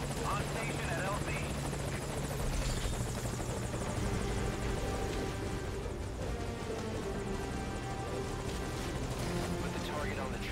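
A helicopter in Metal Gear Solid V hovers with a steady, dense rotor roar that holds for the whole stretch, loud and close, with voices talking over it.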